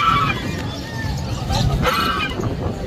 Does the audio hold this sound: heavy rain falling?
no